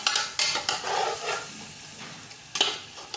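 Mutton for white pulao stirred and fried in a pot, with sharp spoon scrapes and clinks breaking over a soft sizzle, close by, with no voices.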